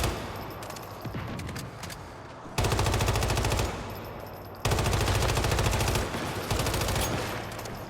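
Rapid automatic fire from an M416 rifle in the game Once Human, loud and dense, coming in sustained bursts with a short drop in intensity between them.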